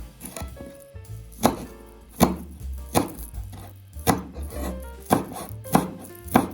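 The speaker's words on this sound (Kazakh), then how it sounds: "Енді көк жуамызды кішкене турап аламыз." A knife chops green onions on a cutting board in a home kitchen, a steady run of sharp, close taps at an irregular rhythm, with no talking.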